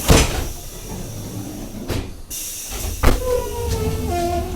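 Train cars rumble past with rhythmic clunks and rattles, ending in a drawn-out metallic squeal as the wagons roll by close.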